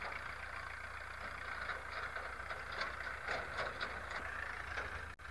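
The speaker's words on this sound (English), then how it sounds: "The hyenas don't like the sound of that tractor" A tractor on a safari drive in the African bush gives a steady, continuous low engine rumble at moderate distance with a broad hiss and no voices.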